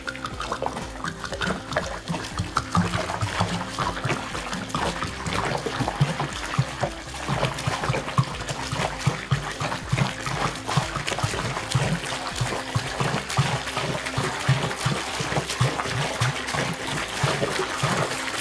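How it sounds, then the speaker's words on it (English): About four gallons of water pours and trickles steadily onto loose horse stall bedding, a continuous splashing gurgle with a low rumble underneath, no talking. "4 gallons of water coming in."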